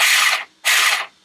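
A Vkar Bison RC truck's electric motor whines in two short forward-throttle bursts, each about half a second, separated by a brief silence, close and loud.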